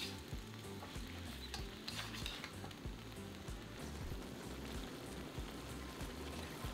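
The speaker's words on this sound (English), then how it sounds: "Now add that sauce from earlier to the pan, stir everything together and bring to a gentle simmer." Black pepper beef sauce simmering and being stirred in a wok, a faint continuous sizzle and bubbling broken by soft clinks of stirring, with no voices.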